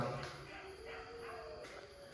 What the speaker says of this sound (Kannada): ನೋಡಿ ಹೆಂಗ್ ಬೊಗಳ್ತಾ ಇದೆ ನಾಯಿಗಳು